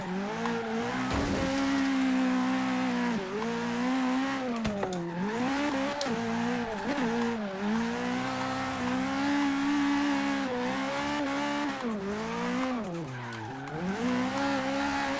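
A car in Forza Horizon 3 races hard with a loud, revving engine that repeatedly dips and climbs through gear shifts, while tires squeal and skid through corners.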